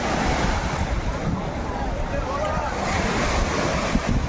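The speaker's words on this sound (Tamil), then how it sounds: "அலையாத பாருங்களேன் சும்மா லைட்டாக தான் வருது இங்கே" Gentle sea waves wash onto the shore at Rameswaram, a steady broadband surf roar mixed with wind buffeting the microphone, continuous and fairly loud.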